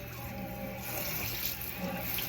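Water runs steadily from a tap into a kitchen sink while herbs are washed, a constant soft splashing hiss that stays even and fairly quiet throughout, with no talking.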